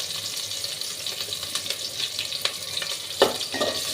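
Onions fry in a pan for bagara rice, giving a continuous crackling sizzle with scattered spoon scrapes and one louder clatter toward the end, and no one speaking.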